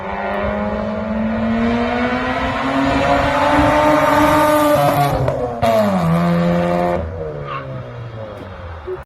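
A loud car exhaust roars as the engine accelerates, its pitch climbing steadily before a sharp shift and a drop-off, close and dominant throughout.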